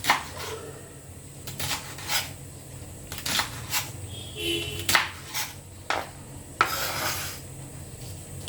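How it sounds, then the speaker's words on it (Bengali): Flat beans are chopped into small pieces with a knife, giving a run of crisp, separate cuts and taps against a hard surface, close and fairly quiet, with uneven rhythm and no talk. "সিম এভাবে কেটে টুকরো টুকরো করে নিচ্ছি"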